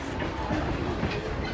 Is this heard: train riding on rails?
yes